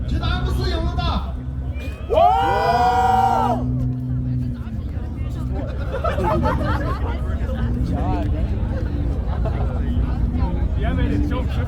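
A crowd at a rev battle between a Mercedes S63 and a BMW M4 cheering and whooping in a loud, dense burst, with chatter and engine noise continuing beneath.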